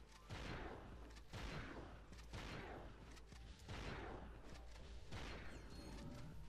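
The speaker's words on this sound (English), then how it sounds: "More fun with the blitz gun." Blitz gun firing in Ratchet and Clank: Going Commando, a steady rhythm of about six punchy blasts roughly a second apart, each with a short rumbling decay, played faint and distant.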